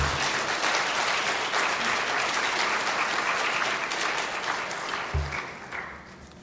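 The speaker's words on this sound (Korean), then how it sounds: "크게 환영과 격려 박수를 한번 같이 드립니다" Loud, steady applause from a church congregation welcoming a missionary, sustained clapping filling the space throughout and tapering off slightly at the end.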